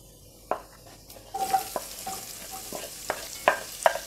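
Chopped onion tipped into hot refined oil with cumin seeds, frying in a sizzling pan with scattered stirring clicks and scrapes, close by and without any talk.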